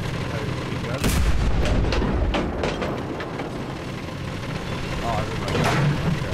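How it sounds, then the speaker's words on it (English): Heavy machine gun fire in the World War II shooter Enlisted, a loud, dense roar of booming shots with bursts that swell and recede over steady battlefield rumble. "Time to bring out our own kind of heavy machine gun, I guess."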